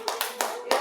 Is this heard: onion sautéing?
no